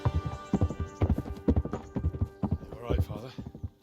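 Horse hooves clip-clopping in the medieval game Kingdom Come: Deliverance, a steady repeated plod under a voice talking over it.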